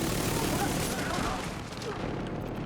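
Explosions in a video game, a dense barrage of booming blasts and crackling bursts, loud and continuous, tapering slightly near the end.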